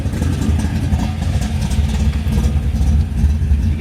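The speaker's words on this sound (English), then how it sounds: "We'll rev it up a little bit." A 1991 Chevrolet Camaro Z28 with a 383 stroker V8 and five-speed revs up close, a loud, rumbling engine that rises and falls in quick throttle blips over a deep idle.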